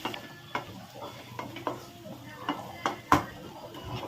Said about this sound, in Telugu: బాగా కలపాలండి